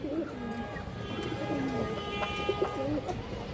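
Silver male pigeons kept for sale coo in low, throaty, rolling calls, close and moderately loud, with a person talking over them.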